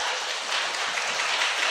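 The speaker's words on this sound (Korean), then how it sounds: "박수." Brief, fairly quiet clapping from a small group on a Korean political talk panel, a soft, even patter of hands lasting under two seconds with no speech over it.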